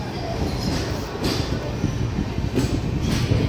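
Inside the 22618 Intercity Superfast Express as it runs, a dense close rumble carries throughout with faint wheel squeal and rail clatter, and no one speaks.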